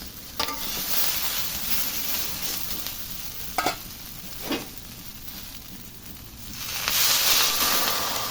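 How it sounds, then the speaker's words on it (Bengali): Vegetables with green chillies sizzle and hiss steadily in a hot pan, with a few sharp scrapes and knocks of a spatula stirring them, close and continuous. "এখন একটু নাড়াচাড়া দিয়ে দিচ্ছি, একটু কাঁচামরিচ দিয়ে দিলাম।"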